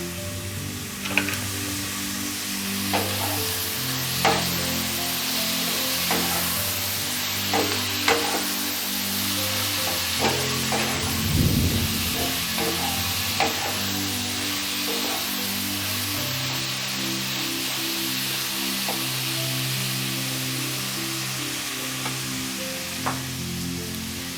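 Ground ripe tomato hits a hot pan of onion and chicken for kadai chicken, giving a steady loud sizzle with scattered crackles and pops and occasional stirring scrapes throughout, no voices.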